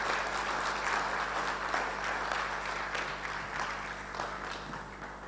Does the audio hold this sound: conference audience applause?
yes